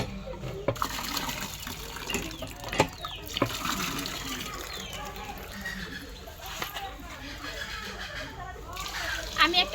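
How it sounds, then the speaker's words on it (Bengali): Rice being washed by hand in water, with steady splashing and swishing plus a few sharper sloshes, close and moderately loud, while voices murmur in the background. "এই চালটাকে আমি ভালো করে ধুমু।"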